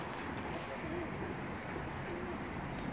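Pigeons or doves coo softly in a small coop, a low steady murmur of calls running continuously under faint background noise, with no clear individual bursts.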